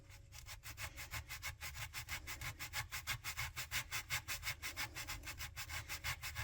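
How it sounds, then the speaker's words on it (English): Sanding block rubs rhythmically against the wooden frames of a model lobster smack near the keel, with close, even back-and-forth strokes and no voice. "I'm going to do that with my sanding block right up against the keel there"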